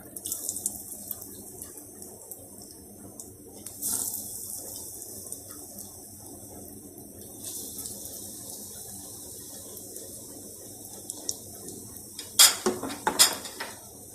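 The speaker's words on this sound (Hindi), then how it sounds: "अब मैं कबाब फ्राई करने लगी, घी हमारा गर्म हो गया।" Chicken and vegetable kababs fry in hot ghee in a pan over low heat, a steady close sizzling hiss throughout, with a few utensil clinks and scrapes near the end.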